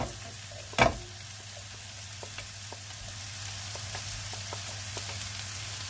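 Red and green chillies and peas sautéing in a pan, a steady low sizzle with a sharp clatter near the start and light scattered ticks of stirring, no voices.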